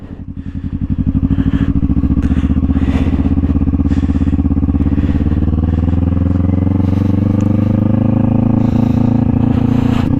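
A motorcycle revs up from a throbbing idle into a loud, steady engine drone that rises in pitch as it accelerates, heard up close and continuously for the whole stretch without any talking.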